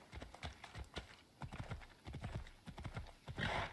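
Horse hooves clatter in a rapid, uneven run in the video game Assassin's Creed Odyssey, repeated sharp thuds at close range rising into a louder burst near the end, with no voices.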